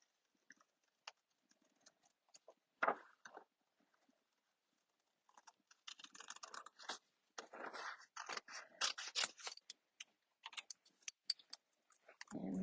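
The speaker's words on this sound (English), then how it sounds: "Just going to grab my snips and I'm just going to cut out" Snips cut through paper card for a handmade card, faint and close, with sparse crisp snipping clicks at first and then denser bursts of cutting and rustling toward the end.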